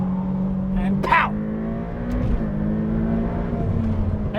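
A Ferrari F8 Tributo supercar pulls away with a droning engine note that shifts in pitch as it accelerates, heard from inside the car with a voice talking over it.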